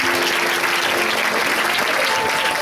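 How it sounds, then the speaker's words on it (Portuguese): Loud, dense applause from a crowd at a church cornerstone-laying ceremony, a continuous steady roar of many hands clapping close by with no pause. "Professora Domízia, uma salva de palmas aqui para a professora, por favor, professora."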